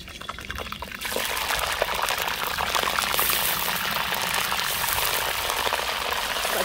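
Shrimp frying in hot oil, a loud bubbling sizzle that suddenly swells after a quieter first second and then holds steady and close without talk.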